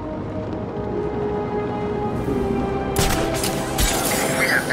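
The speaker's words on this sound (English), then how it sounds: "We have visual on the explosion." Explosions and gunfire in Batman: Arkham City, with a steady rumbling background that breaks into a sharp, bright blast about two thirds through, followed by crackling debris and continuing bursts.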